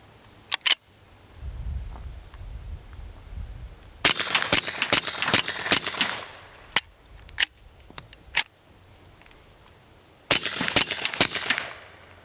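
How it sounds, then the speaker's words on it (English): A Hi-Point pistol fired rapidly outdoors at a van: loud, sharp shots in fast bursts, separated by short quiet gaps, with no talking. "We're just gonna rapid fire this thing into the van over there."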